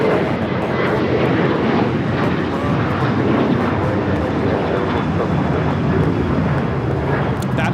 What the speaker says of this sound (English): That is Alaska Airlines 1315 taking off to Portland on the 737-900 ER.